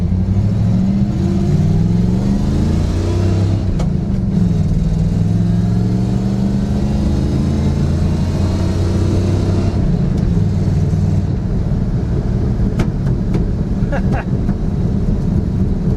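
A Chevy Nova engine droning while driving at night, a loud steady mid-pitched hum that rises and shifts through revs, heard from inside the car.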